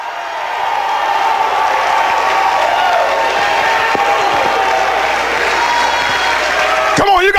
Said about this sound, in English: clap your hands and shout in this house